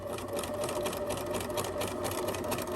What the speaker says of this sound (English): So we sew forward all the way across that strap